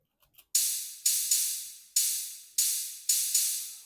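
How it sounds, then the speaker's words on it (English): Five crisp, bright hi-hat hits with long hissy decays ring out alone at an uneven, syncopated spacing, the sample drawn out and sustained for an Afro House beat. "A hi-hat"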